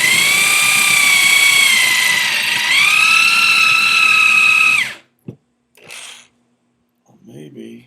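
A power drill whines loudly and steadily for about five seconds, its pitch dipping briefly under load, then stops, followed by a few faint clicks and a short voice.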